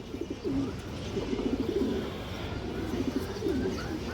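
Domestic flying pigeons kept in a big collection give soft, throaty coos in a few rolling phrases, near and moderately loud against a dense, low bed of flock noise.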